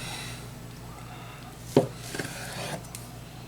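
A knife slices into a rested smoked chuck roast injected with Worcestershire sauce, giving one sharp thunk against the cutting board followed by a few softer cuts over a quiet background hum.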